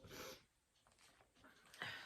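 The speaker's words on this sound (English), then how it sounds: "please forgive all the sniffles" Short nasal sniffs and snorty breaths, close and fairly quiet, come in two or three bursts with a soft hiss between them.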